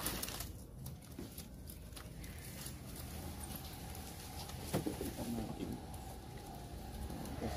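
A pigeon coos softly while being bathed, low cooing under steady splashing and watery background noise, with a few brief taps and patters throughout.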